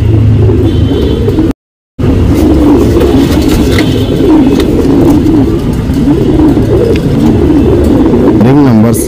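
A racing pigeon coos close by in low, rolling repeated phrases over a steady background hum, with a short dropout early on and a rising vehicle-like whine near the end.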